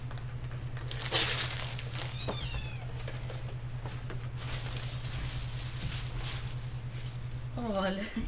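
A cat meows several times indoors, with a clear cry near the start and another toward the end, over a steady low hum while a person talks nearby.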